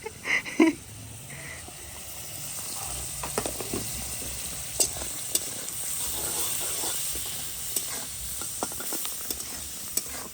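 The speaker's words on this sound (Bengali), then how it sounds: "একসাথে সমস্ত মশলাগুলো দিয়ে দিয়েছে, দিয়ে ভাজাভাজি চলছে।" Ground spices (turmeric, salt, red chilli powder and cumin) frying together in a pan with prawns, a soft continuous sizzle with scattered scraping and stirring clicks and no voices.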